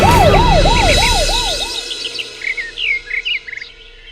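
An ambulance siren wails in a steady rising and falling pattern, loud and close, then fades away as birds chirp in the background; no one speaks.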